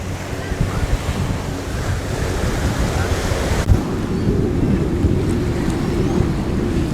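Ocean surf rolls steadily at a beach pier in Key West, Florida, mixed with gusty wind buffeting the microphone in a constant, loud wash with no clear breaks.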